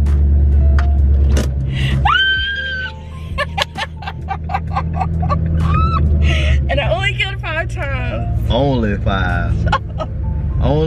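A Ford Mustang Cobra engine drones low and steady as the car is driven, running under excited chatter, laughter and gasps from people in the cabin.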